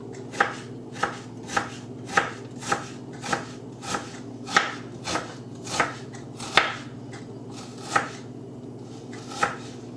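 A knife chops onion on a board in about a dozen crisp, evenly spaced strokes. The sound is close and clear over a faint steady hum, with no talking.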